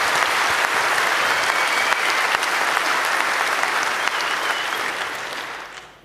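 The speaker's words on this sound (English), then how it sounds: "Round of applause" A conference audience applauds loud and close as two speakers are welcomed, a dense, steady wash of clapping that runs for several seconds before tapering off at the end.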